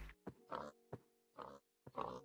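Minecraft pigs oink in short, clear grunts: a few separate snorts in an uneven rhythm against silence.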